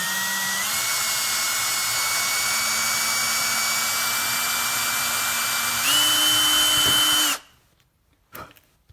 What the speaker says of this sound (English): you can take your handy dandy drill, and with a 132 bit,